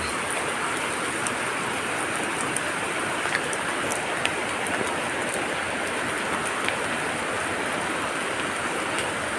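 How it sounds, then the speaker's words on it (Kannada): Steady heavy monsoon rain at night in Mangaluru, a dense continuous hiss of downpour with scattered sharper drips, no voices. "ಈಗ ರಾತ್ರಿ ಬರ್ತಾ ಉಂಟು"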